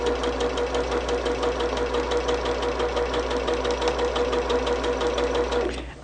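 A sewing machine chain stitches quilt trim pieces to window pieces, a steady fast mechanical whir with rhythmic needle ticking running continuously at close range, then stopping abruptly at the end.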